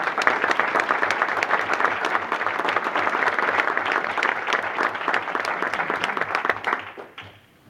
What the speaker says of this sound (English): would you join me and give them a big applause?